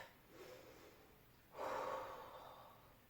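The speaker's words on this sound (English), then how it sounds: "2 deep breaths." Two deep breaths taken during a standing quad stretch in a home workout, a soft first inhale followed by a fuller, louder breath, close and quiet with no talking.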